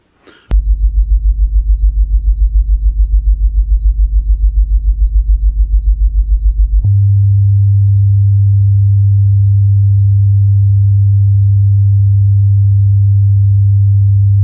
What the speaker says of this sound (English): I'll put tones up to let you hear the difference between 50 Hertz and 100 Hertz